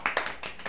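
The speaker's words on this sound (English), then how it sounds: "Clap everyone." Children clapping together in a nursery classroom, a quick burst of several close, bright claps in under a second with no voices over them.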